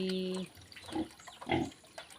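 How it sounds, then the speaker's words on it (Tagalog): Pigs on a farm give two short, low grunts about half a second apart at close range. A brief tone sounds before them against quiet background noise. "Ayan, ito na po yung aking baboy."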